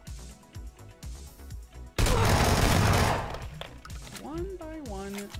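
A Vector submachine gun in the PUBG video game fires one loud, rapid full-auto burst lasting just over a second, emptying the magazine, with someone talking before and after.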